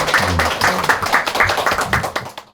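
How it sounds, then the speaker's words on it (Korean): An audience gives a brisk round of applause, many hands clapping in quick uneven bursts that thin out and stop abruptly at the end. "박수 한번 주세요"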